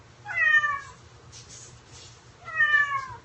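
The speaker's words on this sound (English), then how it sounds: "Kitty sounds jealous. Kitty's hungry." A pet cat gives two clear, loud meows about two seconds apart, with fainter sounds in between. It is indoors and close by, and no one speaks.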